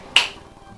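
A single sharp hand clap during a Paneurhythmy group exercise, loud and close, followed by a quiet decaying tail with no talk.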